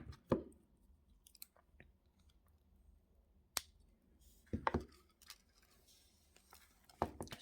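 Cutters snip jewellery wire on a wire wrap pendant, giving a few sharp, close clicks and snaps spread across a quiet stretch with light handling noise between.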